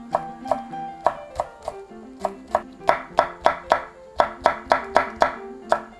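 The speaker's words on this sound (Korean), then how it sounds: "이제 청고추도 썰어주세요" Green chili sliced with a knife on a cutting board, about twenty sharp, close chops at a steady, moderately quick pace, each a distinct woody knock.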